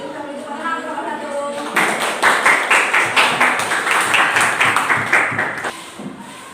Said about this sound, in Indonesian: kalau itu kita beri tepuk tangan kelompok satu